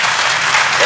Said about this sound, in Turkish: Zaten alkış büyüktü.